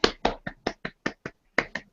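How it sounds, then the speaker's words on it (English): About nine soft, polite hand claps, a golf clap given beside a set of golf clubs, come in a quick, slightly uneven rhythm, close and clear with no talking. "gives a soft golf clap."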